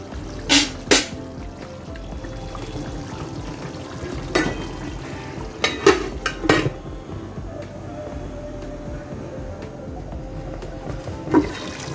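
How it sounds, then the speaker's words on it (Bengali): Beef malai kofta gravy simmering in a pot, stirred now and then: a few sharp scrapes and clinks of a spoon against the pot stand out over a low steady background, with no voices. "মাঝে মাঝে এভাবে নেড়ে দিচ্ছি এবং ঢেকে সিদ্ধ করে নিচ্ছি।"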